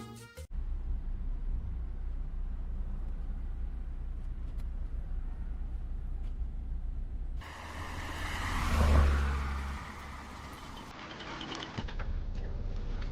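A car driving along, heard as a continuous low engine and road rumble that swells briefly midway, then settles back to an even drone.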